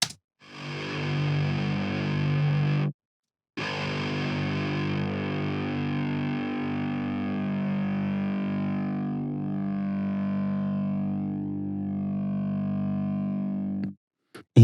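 Heavily distorted electric guitar chords through an amp and cabinet emulation plugin ring out with a thick, saturated tone, sustained and loud, broken by one brief gap early on.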